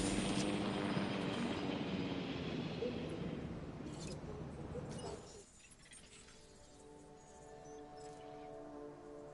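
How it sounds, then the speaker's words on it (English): A helicopter in Jurassic World Evolution approaches with a loud, dense rotor roar that dominates the first half, then drops to a quieter hum as it settles; no talk. "I hear the chopper."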